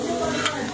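Six cloves of chopped garlic sizzle and get stirred in a plough-disc pan for arroz carreteiro, a short burst of close hissing frying with the scrape of stirring.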